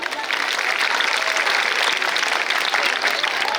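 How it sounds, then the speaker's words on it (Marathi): Loud applause at a school cultural event in a village, dense sustained clapping from a large gathering that fills the whole stretch at close range. "एकदा जोरदार टाळ्या होऊ द्या।"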